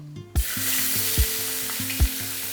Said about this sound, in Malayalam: ഇനി നമുക്കിതിലേക്ക് അരിഞ്ഞു വെച്ചേക്കുന്ന സവാള ഇട്ട് കൊടുക്കാം